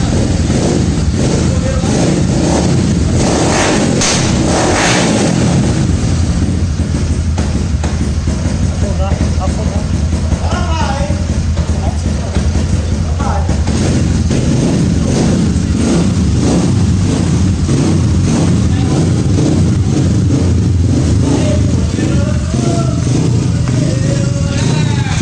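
Small motorcycle fitted with a 222cc kit and a Twister carburetor revs loudly and continuously up close, the engine note rising and falling throughout.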